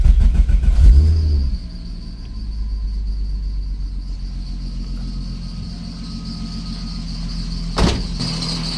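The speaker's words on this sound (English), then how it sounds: "See how it sounds with the new exhaust." A 3.2 VR6 engine in an MK2 Jetta coupe blips loudly once through a new exhaust, then settles into a deep, rumbling idle with a throaty exhaust tone, followed by another short rev near the end.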